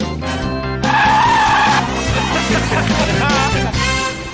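A car on low-grip eco tyres skids, the tyres squealing loudly in a long wavering screech over engine noise, close and sustained for several seconds.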